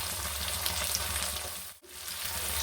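A steady close sizzle of carrot frying in hot oil in a pan, with a brief dip partway through before the crackle resumes.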